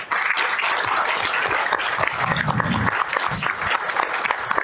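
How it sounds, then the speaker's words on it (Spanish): An audience at a humanitarian funding side event applauds its panelists, a dense, steady wash of clapping running evenly through the whole stretch, with a faint murmur of voices mixed in. "así es que un aplauso para ustedes."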